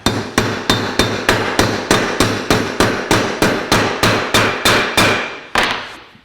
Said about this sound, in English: we can tap our bushings in